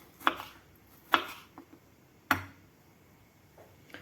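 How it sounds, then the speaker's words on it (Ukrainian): A knife slicing bell pepper into thin strips on a cutting board: three sharp, distinct chops spaced about a second apart, followed by a couple of fainter taps in a quiet room. "Ось так досить тоненько нарізала перець."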